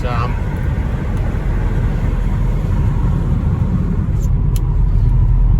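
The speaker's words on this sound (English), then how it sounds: "It's got a good note to it, and just a single exhaust" A Ford AU Fairlane Ghia V8 engine drones steadily with a deep, continuous single-exhaust rumble, loud and close throughout, with a person speaking over the noise.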